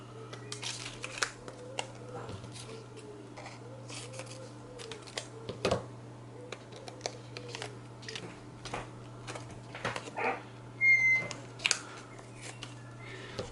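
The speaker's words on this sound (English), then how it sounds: "I'm just cutting those ESD bags open" Scissors snip through plastic ESD bags holding LED chips, a string of short crisp clicks and crinkles scattered over a steady low hum, fairly close.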